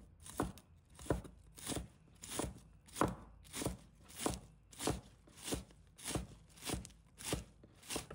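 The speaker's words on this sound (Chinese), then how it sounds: "把它切成葱花" A kitchen knife chops scallions on a cutting board in a steady, even rhythm of about a dozen soft thuds, close but faint, with no talking.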